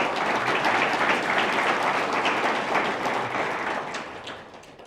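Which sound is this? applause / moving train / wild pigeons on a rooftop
applause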